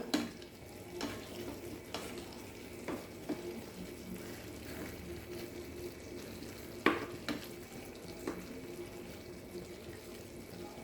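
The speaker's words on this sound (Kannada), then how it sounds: "ಮುಚ್ಚಿಟ್ಟು ಇನ್ನೊಂದು ಐದು ನಿಮಿಷ ಬೇಯಿಸು ನೋಡಿ ನಿಧಾನಕ್ಕೆ ತಿರ್ಸಿ ಹಾಕುವ" Eggplant curry cooking in a covered pan gives a steady close sizzle and bubbling hiss, broken by occasional soft knocks and scrapes as it is gently stirred.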